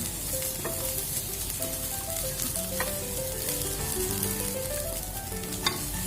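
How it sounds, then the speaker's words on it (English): Pomegranate seeds and coriander stirred into a steadily sizzling kachori filling in a pan, with a constant loud frying hiss and faint scraping of a spoon, close up and without speech. "Add pomegranate seeds and just stir well"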